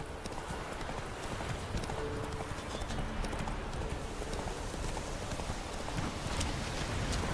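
Rapid, rhythmic hoofbeats of a galloping horse in The Witcher 3: Wild Hunt, steady and continuous over a low background rumble.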